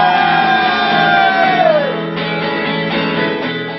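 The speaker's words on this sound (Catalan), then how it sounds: "Ens hauríeu d'ajudar fent un crit ben fort, tot el tall" A crowd at an open-air street show in Reus yells and whoops together in one loud sustained roar, with a single voice's shout sliding downward early on, then the massed noise stays dense and continuous throughout.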